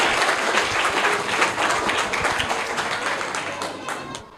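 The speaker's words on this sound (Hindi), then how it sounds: "इनका जोरदार तालियां हो जाए इनके लिए" A crowd applauds steadily, dense clapping at full strength that slowly thins toward the end.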